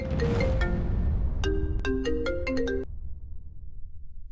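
A mobile phone rings with an incoming call, a bright melodic ringtone of rising and falling notes that plays clearly for a few seconds over quiet background sound.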